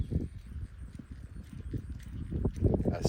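Quarter horse gelding loping in an arena, its hoofbeats thudding in a steady rolling three-beat rhythm, fairly close, with some low background noise and no speech.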